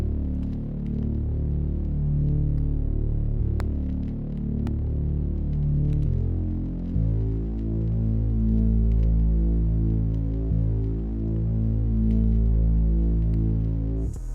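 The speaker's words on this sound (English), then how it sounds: "It's a one-shot bass from a one-shot kit I'm using." A one-shot bass sample shaped with two EQs cutting the highs and beefy distortion in an FL Studio dark trap beat, a deep, throbbing low drone that shifts pitch midway, steady and without talking.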